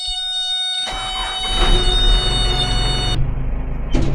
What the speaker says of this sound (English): horrendous beeping.